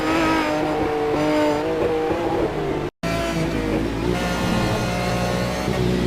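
Aston Martin GT1 race cars roar around Silverstone's Grand Prix circuit in a 2015 BOSRA championship round, loud engine notes rising and falling through gear changes, with a brief cut partway through.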